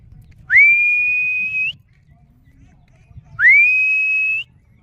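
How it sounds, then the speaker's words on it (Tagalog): Someone whistles to call a dog, two long rising whistles that hold a steady pitch, each about a second long, sounding close and loud over a quiet outdoor background. "Pito lang po, alam niya."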